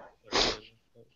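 A single sharp sneeze from a student during a math group meeting: a brief breathy burst, close and fairly loud, followed by a faint murmur of voices.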